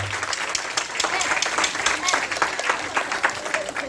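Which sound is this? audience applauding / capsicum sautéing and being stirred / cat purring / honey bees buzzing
audience applauding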